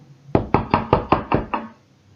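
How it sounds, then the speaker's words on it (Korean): Six firm, evenly spaced knocks on a wooden inn door, close and crisp, used as a sound effect in a children's Bible story about shepherds in Bethlehem. "목자들은 여관에 도착해서 문을 두드렸어요"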